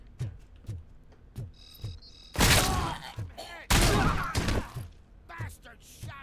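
Gunfire in the game RoboCop: Rogue City, with two heavy bursts of shots and shattering debris among sharper single cracks spaced through the scene, plus grunts and groans.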